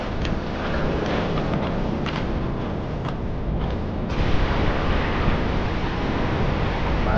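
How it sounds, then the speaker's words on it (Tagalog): Big sea waves crashing and surging, a steady broadband roar with gusting wind across the microphone, swelling louder in the second half, with no talk. "Malaki ang alon."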